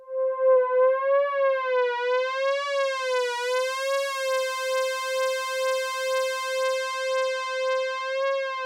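A steady synth pad tone from a Novation Summit, with a wobbling, siren-like pitch that sweeps up and down slowly, then settles into a faster, even warble; loud and alone.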